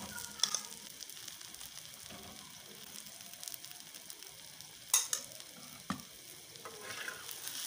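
An aloo gobhi paratha fries in ghee on a hot griddle, a soft continuous sizzle with occasional crisp spatters and scrapes, fairly quiet, no voices.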